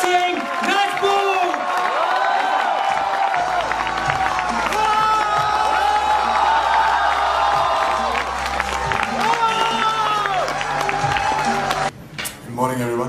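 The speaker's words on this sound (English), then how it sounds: "I request you all to give a huge round of applause to welcome Sushant Singh Rajput!" Large student crowd at IIT Bombay cheering, whooping and applauding to welcome actor Sushant Singh Rajput, a loud sustained roar of shouts and clapping with music underneath that cuts off abruptly near the end.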